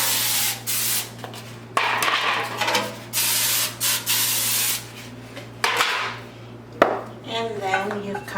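Short bursts of spray coat a round baking pan with grease before cinnamon rolls go in, several quick hisses separated by pauses, fairly close and loud, with light clatter from kitchenware and no talking.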